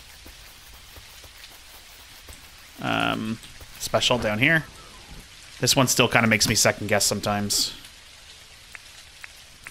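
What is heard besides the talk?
rain in the video game Dinkum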